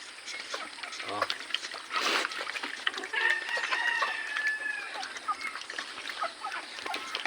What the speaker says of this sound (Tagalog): Ang dami ding manok oh.